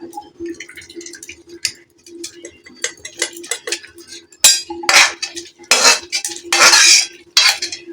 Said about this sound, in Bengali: এইভাবে আমি একটু ঘেঁটে দিলাম